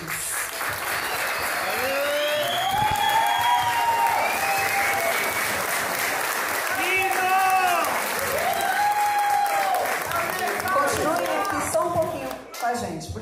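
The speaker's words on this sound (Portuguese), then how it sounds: "Vou pedir então uma salva de palmas para eles." A crowd claps loudly and steadily for several seconds, with cheering voices and shouts rising over the applause.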